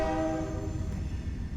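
A train horn blasts loud and close, its sustained tone fading over about a second and a half while the rumble of the passing train continues underneath.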